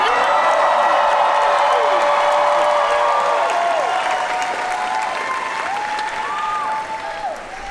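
A large crowd in Comic-Con's Hall H at a Star Trek: Picard panel claps loudly and continuously, with whoops and whistles rising above the dense applause before it gradually tapers off.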